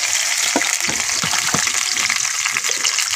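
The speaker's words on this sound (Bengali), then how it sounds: "পেঁয়াজগুলো কিন্তু ভাজা হয়েছে, আমি ফাইন দিয়ে লইলাম।" Onions fry in hot oil in a wok, giving a steady, close sizzle with scattered pops and the occasional scrape of stirring.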